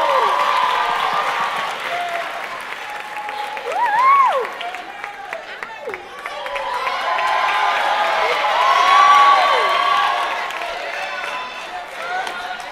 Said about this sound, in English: I want you guys to give him a round of applause, Mr. Marcus Ferby.